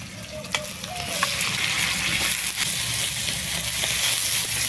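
Continuous loud sizzling of shrimp and cabbage frying in a hot pan, with occasional stirring clinks and a brief voice in the background.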